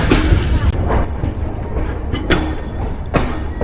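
The Panchagarh Express intercity train gets under way on its Joypurhat-to-Dhaka run, with a continuous rumbling rattle heard from on board and several sharp thumps and clanks of the carriages at irregular intervals.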